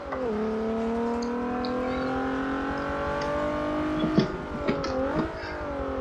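A Ford Mustang power slides in Forza Motorsport 7, its engine drone held steady and loud with shifting pitch and brief tire-like bursts near the end, no voices.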